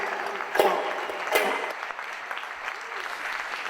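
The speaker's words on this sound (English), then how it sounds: "let us give a big applause to Armand Leroy" An audience at a science-and-cocktails evening applauds a newly introduced speaker, a steady wash of clapping with a couple of louder swells early on, fading slightly but continuing throughout.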